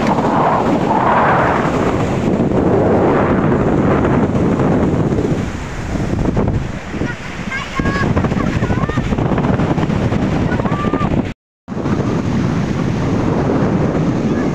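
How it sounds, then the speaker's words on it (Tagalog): Strong wind roars steadily against the microphone outdoors at sunset, loud and buffeting, with a brief cutout near the end. "Lakas ng hangin guys."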